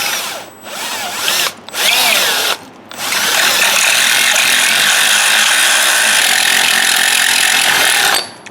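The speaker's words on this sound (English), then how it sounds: "I'm just going to ream this hole a little bit down here so it can line up. I got a reamer bit on there" A power drill fitted with a reamer bit whines steadily as it enlarges a hole in a metal bracket for mounting dual electric cooling fans, with a few brief pauses in the first three seconds, then a long continuous run before stopping.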